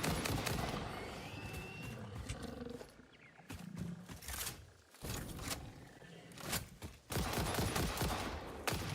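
Bursts of gunfire in the factory-building game Satisfactory, loud clustered shots broken by a brief near-silent gap midway, then resuming with heavy repeated blasts and a roaring, creature-like rumble.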